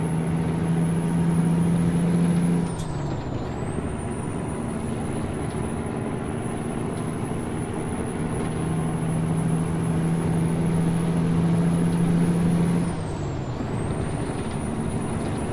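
Kenworth T800 truck with a Cat C15 engine rated at 500 horsepower in American Truck Simulator, a steady engine drone with a high whine that dips and recovers twice across two gear shifts, loud and without talk.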